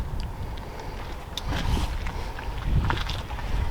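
Strong wind buffets the microphone outdoors beside a Mercedes Vario truck converted into a camper, a steady rushing roar with gusts swelling louder toward the end.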